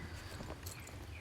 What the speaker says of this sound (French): Bon, toi le poney, tu vas te bouger les fesses.